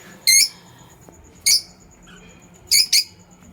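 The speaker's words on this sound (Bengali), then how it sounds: "এগুলো আমাদের লাভ বার্ড" Several sharp, bright lovebird chirps ring out in short bursts from a breeding pair in a cage, with a single call, a pause, then two quick calls close together over a quiet background.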